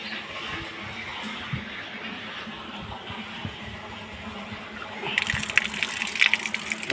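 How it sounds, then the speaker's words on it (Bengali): Water gushing and flushing through the pipes of a cleaned water tank, a steady broad rushing wash that swells louder and more splashy near the end. "এখন আপনাদেরকে আমি দেখাচ্ছি পানি ছাড়িয়া"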